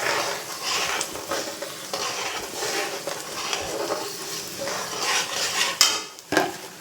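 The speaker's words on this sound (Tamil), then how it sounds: "இப்போ எல்லாத்தையும் கலரி விட்டுடலாம்." Puli thokku, a tamarind relish mixture, being stirred in a pan, with continuous scraping and soft sizzling throughout and a couple of sharper utensil knocks near the end.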